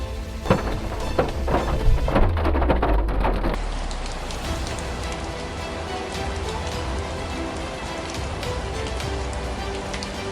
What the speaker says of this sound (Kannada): ಜೋರು ಮಳೆ, ಸಿಕ್ಕಾಪಟ್ಟೆ ಮಳೆ ಬರ್ತಾಯಿದೆ